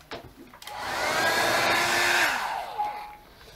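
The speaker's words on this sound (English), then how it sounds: "I can also use my my drying thingy for this." A handheld heat drying tool blows hot air over a Gelli print, switching on with a whirring rise, holding a loud steady roar for about two seconds, then winding down, close by.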